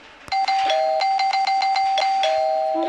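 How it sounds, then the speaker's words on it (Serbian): Doorbell chimes ring out inside the Toca Life World video game, a loud rapid burst of repeated electronic dings followed by a few longer tones, with no voices over them. "Ko to zvoni?"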